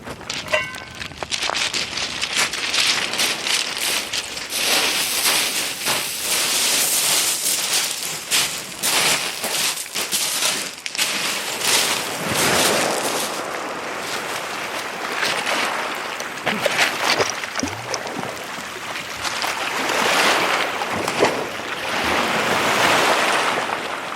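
Sea waves washing in at the water's edge of a coastal sea loch, a continuous rushing surf broken by swelling breaks, loud and close with wind buffeting the microphone, no voices.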